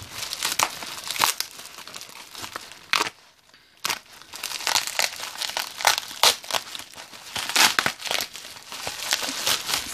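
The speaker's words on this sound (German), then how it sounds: "Das dauert wirklich ein bisschen länger, weil das echt sehr heftig eingepackt ist." A heavily packed bead order being unwrapped, with loud, close crinkling and tearing of packaging in dense bursts and one brief pause.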